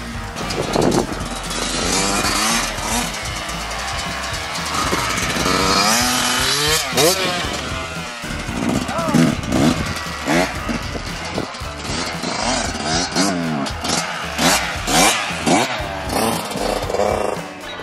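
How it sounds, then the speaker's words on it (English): Dirt bike engine revs repeatedly in rising and falling surges, loud and close, with a continuous harsh motor drone throughout and a voice speaking over it at times. "Riding dirt bikes is the best feeling in the world."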